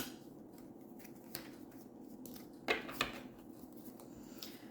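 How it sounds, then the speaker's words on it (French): Tarot cards shuffled by hand give soft riffling and papery snaps, quiet and close, with a couple of sharper flicks near the middle and no speech. "je brasse et les cartes reviennent"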